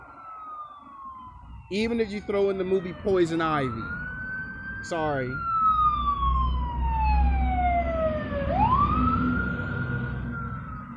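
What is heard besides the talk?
fire truck siren passing by outside laundromat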